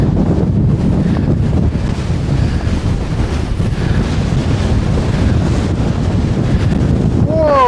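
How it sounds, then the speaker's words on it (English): Strong Storm Floris wind buffeting the microphone outdoors, a loud continuous roar with gusty surges throughout, no speech. "Oh, so breezy."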